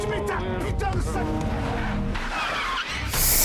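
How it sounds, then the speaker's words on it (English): A car speeds past in a film, a loud engine roar with rising and falling pitch and a tire-squeal edge, ending in a sharp burst of noise, with people talking over it. "Oh, that car was going so fast."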